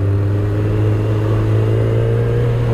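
A large 1000cc Kawasaki Z1000 (Sugomi) motorcycle engine idles and revs steadily with a deep, continuous rumble, close and loud throughout.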